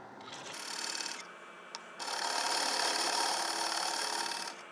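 A wood lathe turns a heavy-duty chopping board, a gouge cutting with a loud rough rasping hiss in two long passes separated by a brief pause and a small knock, close with no talking.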